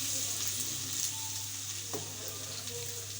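Finely chopped garlic and cumin seeds sizzling in hot oil in a pan, a steady close-up crackling fry with a brief clink midway, fairly faint overall.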